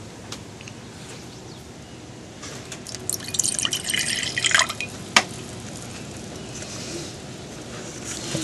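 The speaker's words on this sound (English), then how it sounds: "I'll just go ahead and pour that in my beaker here." Solution being poured into a glass beaker during a vinegar and ammonia titration, a soft trickling and dripping of liquid that rises briefly in the middle before a single clink, with no talking.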